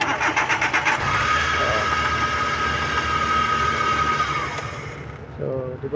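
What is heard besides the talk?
Suzuki DA64 car engine starting and running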